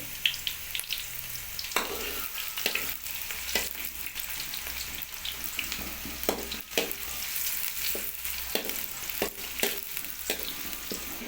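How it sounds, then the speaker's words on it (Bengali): Onions frying in hot oil in a pan for a chicken dish, a steady close sizzle broken by repeated sharp scraping clacks of a spoon stirring them through the oil, with no talking. "এখন আমরা পেঁয়াজ দিয়ে নিচ্ছি। পেঁয়াজটাকে হালকা নেড়ে নিতে হবে অয়েলের মধ্যে।"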